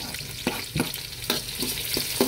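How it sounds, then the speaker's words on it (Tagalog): Onion, garlic and ginger sautéing in a pan, a steady close sizzle broken by several sharp scrapes of a stirring utensil at a roughly even pace. "Dito na rin tayo magigisa mga bossing. Unahin na natin ang sibuyas. Sunod natin ang bawang. Sabay na rin natin yung luya."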